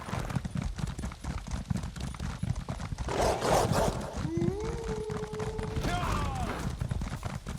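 Horse hooves clip-clop across terrain in Elder Scrolls Online, a steady rhythm under game music and ambience, with a horse whinny rising midway and other game effects layered around it.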